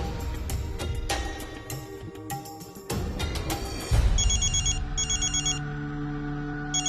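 A telephone rings in an electronic trilling pattern, with several bursts repeating over a few seconds, clear and near under a musical background.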